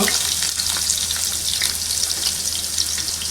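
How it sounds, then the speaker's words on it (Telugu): Onions and green chillies fry in a pan for a country-style bottle gourd and milk curry, giving a steady, close sizzle with a constant bright hiss and no talking. "ఉల్లిపాయలు వేసుకుందాం, అలాగే పచ్చిమిరపకాయలు కూడా వేసేద్దాం"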